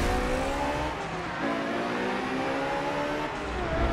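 A Bugatti race car engine at Suzuka in Forza Motorsport 7 roars continuously, rising and shifting in pitch through gear changes as it accelerates, loud and close with no talk.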